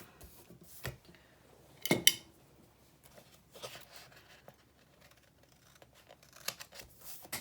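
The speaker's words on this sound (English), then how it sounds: "Just gonna have to trim the edge off a little bit." Scissors trim the edge of a planner sticker in a quiet room: a couple of sharp, close snips, the loudest near the middle, among soft rustles of paper.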